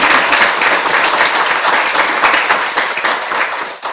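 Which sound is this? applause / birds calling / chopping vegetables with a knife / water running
applause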